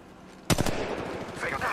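A short burst of several rapid gunshots in Apex Legends Mobile cracks out loudly after a quiet moment, then fades into a rumbling tail under faint game noise.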